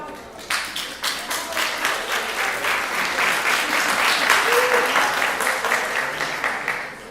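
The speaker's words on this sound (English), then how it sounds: "Give yourself a round of applause." An audience applauds with steady, sustained clapping that swells in at the start and carries on at an even, loud level throughout, with no voices over it.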